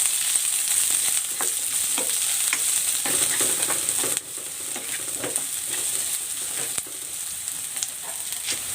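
Garlic and onion sauté in a hot pan in a Filipino home kitchen, giving a steady close sizzle with scattered stirring clicks and scrapes and a brief drop in level partway through.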